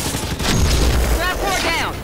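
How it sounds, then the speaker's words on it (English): Gunfire aimed at a gravitational core during a battle in the Halo 5: Guardians video game, heavy booming shots rolling under a continuous wash of noise, with voices and sci-fi sweeps over the top. "Target fire on that grav core."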